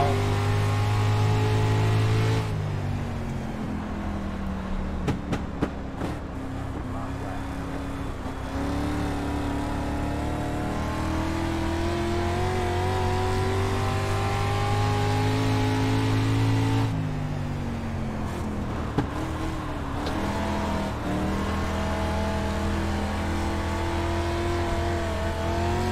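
A dirt-track race car engine in the iRacing sim at USA International Speedway drones loudly and steadily for the whole stretch, its pitch rising and easing as the throttle is lifted and reapplied through the turns, with no talk over it.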